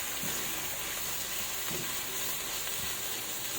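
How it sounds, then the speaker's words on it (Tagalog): Strips of pork belly sauté in a hot pan, an even, steady sizzle and crackle of frying with a few faint stirring clinks, close and continuous. "Tapos gisa-gisahin lang natin yan."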